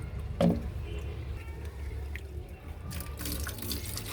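Water poured over black gram while washing it, then draining away: a sharp splash near the start, a few drips, and a trickle of draining water near the end, over a low hum.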